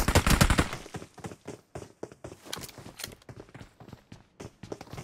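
Gunfire in the mobile battle royale game BGMI, with a burst of rapid shots at the start followed by scattered sharp single and clustered shots and footstep-like taps, fairly quiet throughout.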